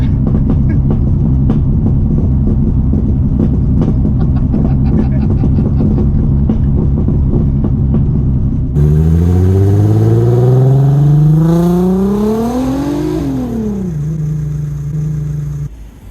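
A loud NASCAR-engined car, a Golf, starts with a rough, heavy idle, then revs hard, the engine note climbing steeply before dropping back to a steady drone, all close and very loud.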